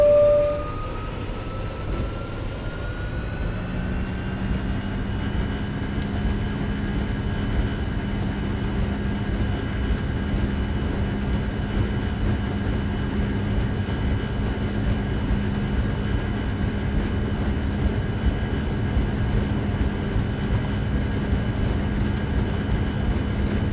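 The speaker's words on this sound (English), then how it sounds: "I'm going to take off with the EPR." Boeing 757 jet engines spooling up for takeoff in the X-Plane 10 flight simulator, a steady loud roar with rising whine tones that holds continuously with no voices.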